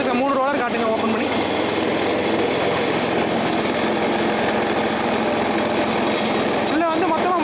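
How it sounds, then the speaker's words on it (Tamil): An engine-powered sugarcane juicer with three rollers runs steadily and loudly throughout, its continuous mechanical drone filling the scene, with a voice briefly heard over it near the start and end. "இப்போ இன்ஜினில் ஓட்டி பார்க்க போகிறோம்."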